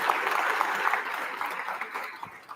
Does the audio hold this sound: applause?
yes